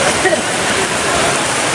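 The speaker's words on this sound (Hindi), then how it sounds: "इस वक्त तेज़ बारिश चल रही है कुंदरी मंडी में।" Heavy rain pours down at a chili market, a dense, steady hiss of water drumming on surfaces, loud and close with no other sound standing out.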